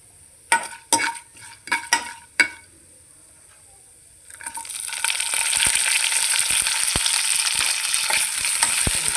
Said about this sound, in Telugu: ఉల్లిపాయ పచ్చిమిర్చి కరివేపాకు వేసేస్తున్నాను